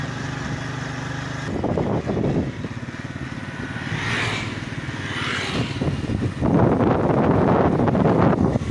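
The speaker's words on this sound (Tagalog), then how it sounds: "Mahangin pa naman." Gusty wind buffets the microphone in rough bursts, rising and falling, loudest toward the end, with a faint engine rumble underneath.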